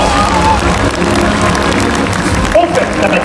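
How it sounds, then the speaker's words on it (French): An audience at the Parc Astérix theme park show claps steadily in a loud, dense wash, with crowd noise and a voice over a speaker system running underneath. "Synchronisons nos applaudissements."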